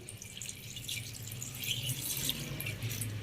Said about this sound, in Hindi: और इसमें 1 गिलास आप पानी शामिल कर दें।